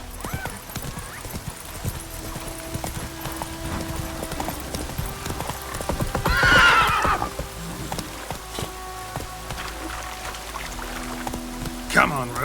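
Roach, the horse in The Witcher 3 video game, trots with steady clip-clop hoofbeats under ambient game sounds, and a short whinny rises around the middle of the clip.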